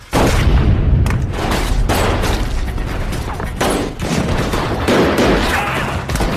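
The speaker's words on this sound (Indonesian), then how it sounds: "terjadilah baku tembak" A loud film gunfight: heavy bursts of shots and booming impacts crowd together in a continuous barrage, with scattered sharper cracks and no speech over it.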